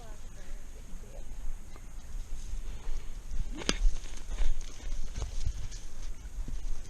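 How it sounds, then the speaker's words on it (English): A horse being ridden moves along with a rhythmic clip-clop of hooves, close and fairly loud, while people talk in the background. "Oh, look at that Brucey go!"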